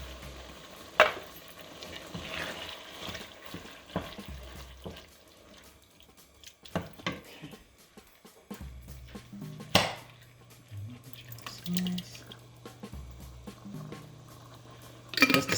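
A spoon stirring a second jar of pasta sauce together with basil, oregano and black pepper in a pot, with soft scraping and wet sloshing, intermittent clanks against the pot and a low hum behind.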